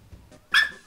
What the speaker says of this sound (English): He won't stop barking at me.